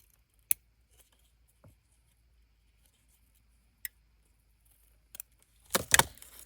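Scissors trimming paper for a small tea box flipbook craft: a few isolated sharp snips spaced apart, then a short louder flurry of cutting and paper rustle near the end, all without talk.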